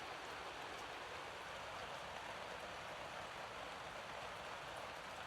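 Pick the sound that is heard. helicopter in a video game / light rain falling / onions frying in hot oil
light rain falling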